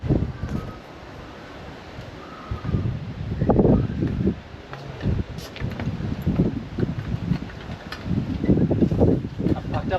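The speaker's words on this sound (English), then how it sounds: "It is very, very windy." Strong wind buffets and rumbles against the microphone in gusty bursts at an Australian garage roof construction site during rafter work, loud and uneven throughout.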